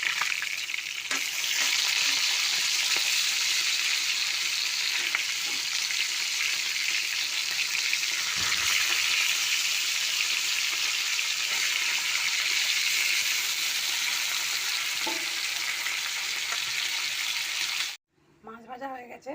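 Pieces of fish fry in hot oil in a kadai with a steady, loud, close sizzle that holds for about eighteen seconds before cutting off abruptly.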